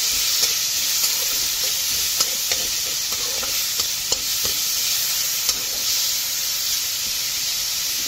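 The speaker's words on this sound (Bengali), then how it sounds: "এটাকে ভালো করে 3 থেকে 4 মিনিট ভাজবো।" Tomatoes with turmeric fry in a pan with a loud, steady sizzle and hiss, broken by light scraping clicks from stirring at irregular intervals.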